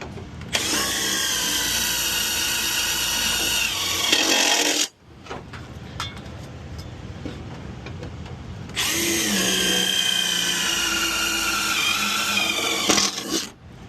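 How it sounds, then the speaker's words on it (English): A power drill bores holes during work on an old boiler, in two long, loud, steady whining bursts separated by a few seconds of quieter handling noise. "let's drill these out"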